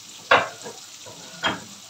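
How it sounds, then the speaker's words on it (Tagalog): Garlic sautéing for pakbet, heard as two short sizzling bursts as the cloves are stirred into the hot pan, each fading back to a faint background hiss. "Gina sa atin yung bawang."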